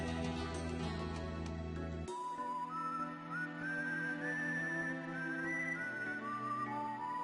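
A melodic whistled tune from the world map theme music of the video game Wild Arms 2, entering after a sustained chord and gliding between held notes over soft backing instruments.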